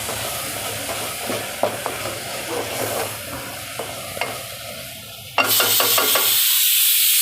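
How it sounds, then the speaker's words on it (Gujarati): Paneer, corn and mixed vegetables with chili-coriander paste, salt and red chili being stirred in a pan: soft sizzling under scattered scrapes and knocks of a spoon, then a sudden burst of loud frying before it falls quiet. "હવે આ બધું મિક્સ કરી લઈશું આપણે"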